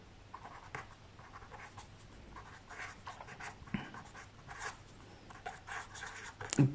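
Pen scratches on paper while a math solution is written out, with soft irregular strokes and taps close by and quiet.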